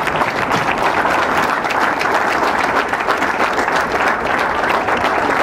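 An audience claps loudly and steadily at an honour ceremony for an Asian Games medalist. The dense, continuous applause lasts throughout, with no clear voices.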